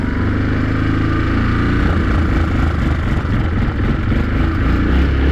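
Carbureted Kodiak engine running and revving, a loud, rough low rumble that fluctuates in pitch and intensity throughout, close by and with no talk.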